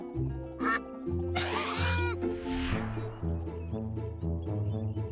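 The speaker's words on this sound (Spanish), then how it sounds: "¡Pato! ¡Pato!" Cartoonish duck quacks repeat over bright children's music, several loud nasal calls close up, with a short whooshing effect between them, in a kids' animal-name song about surprise eggs.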